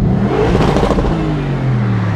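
A modified car exhaust revving, heard at a car meet on a trip to Wörthersee: a close, loud, rough engine drone that rises and holds steady for about two seconds.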